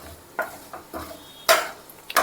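Spices tempering in hot oil for an amla and sesame pickle, with quiet sizzling under a few sharp crackles and stirring clinks spaced irregularly, nearby and fairly soft, no talk.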